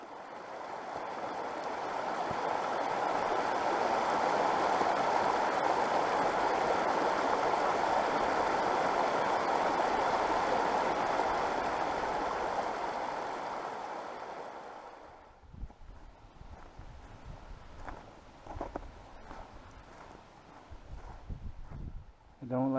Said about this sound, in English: And now this is the start of the Siffleur River.